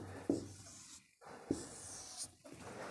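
Pen writing matrix numbers on paper during a math lesson, soft scratchy strokes in short bursts separated by brief pauses, close and quiet with no voice over it.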